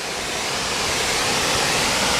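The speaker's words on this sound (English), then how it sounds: "But the waterfall's right there." Steady, dense roar of Superior Falls on the Wisconsin–Michigan border, a continuous broadband rush of falling water with no breaks, loud and close.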